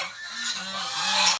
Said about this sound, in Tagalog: maingay yung mga alagang gansa